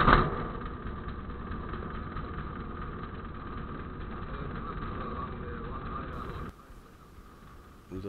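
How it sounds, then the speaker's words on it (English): Ultra Cruiser light aircraft engine idling steadily while taxiing on a runway, a continuous close droning hum that drops off sharply near the end, with radio-style speech over it. "Ultra Cruiser taxiing to north end of runway 19."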